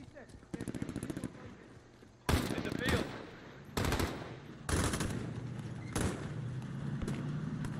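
Bursts of automatic gunfire and single shots ring out in a Modern Warfare campaign mission, loud and near, in several separate volleys with short pauses between them, while a player's voice talks in the background.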